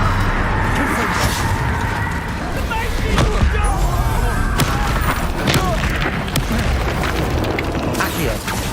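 Confringo fire spells burst again and again in Hogwarts Legacy combat, a dense, loud run of booming blasts and crackling impacts with no gaps between them.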